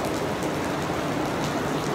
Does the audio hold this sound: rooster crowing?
no